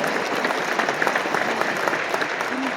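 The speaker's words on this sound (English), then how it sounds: "Please, applaud, absolutely." An audience claps at a keynote session of the 2024 LCI convention in Melbourne: a dense, steady wash of applause from many hands, fairly loud and continuous, with no clear voices.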